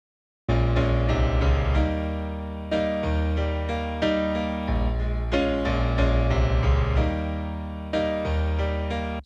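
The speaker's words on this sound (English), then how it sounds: "I've just got a piano track which sounds like this without the reverb on it" A dry piano track plays with no reverb, carrying light EQ and compression. Full chords sound in a steady, close, even rhythm, each phrase ending abruptly with no ambient tail.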